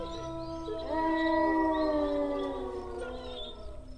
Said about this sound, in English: some jackals began to howl from a neighboring thicket